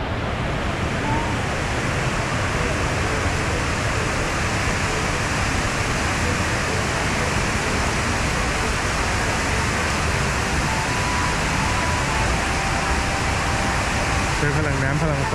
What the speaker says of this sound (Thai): เป็นสวนป่ากลางห้างนะครับที่มีน้ำตกลงมา